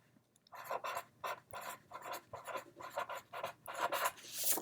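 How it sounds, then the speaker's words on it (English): A pencil scratches steadily across paper in short, uneven strokes, a soft dry rasp with brief pauses between words, close and quiet, with no voices. "You need to write that down too."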